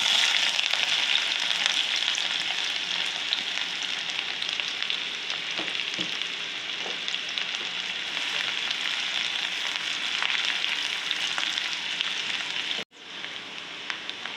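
Onions and cumin seeds frying in hot oil in a pan, a steady bright crackling sizzle that runs continuously, briefly cut off near the end before resuming.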